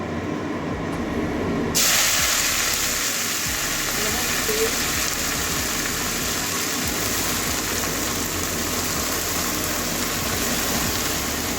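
Washed leafy greens (data shak) tipped into a hot pan with beans and eggplant, sending up a sudden, steady hiss of sizzling steam that holds for about ten seconds.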